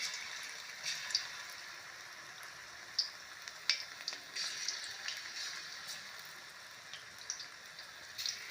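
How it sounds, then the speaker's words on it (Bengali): Cabbage manchurian fritters coated in besan batter fry in hot oil in a wok, a soft steady sizzle with scattered small pops and crackles, fairly quiet and without talk. "এইবারে আমি এইগুলোকে ভেজে নেব"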